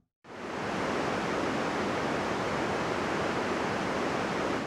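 A noise loop shaped by EQ to resemble a beach recording for game ambience plays as a steady, soft-edged wash like distant surf, starting suddenly after a brief silence and holding unbroken.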